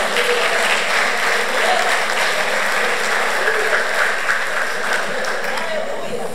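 Steady, dense applause from a church congregation fills the space evenly, loud and sustained throughout with no break, a broad wash of many hands clapping together.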